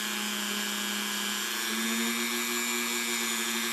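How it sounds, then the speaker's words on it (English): A Dremel rotary tool buffs the white gold setting around a diamond in a piece of jewelry, a steady high-pitched whine whose pitch rises slightly partway through, close and continuous with no pauses. "So I'm just buffing the whole setting area around the diamond, which is actually white gold."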